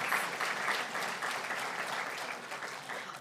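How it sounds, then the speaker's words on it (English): An audience at a university Women of Courage award ceremony gives the women being honoured a round of applause: steady, full clapping from a large crowd that holds for a few seconds, with no talking. "Let's give all of these amazing women a resounding round of applause."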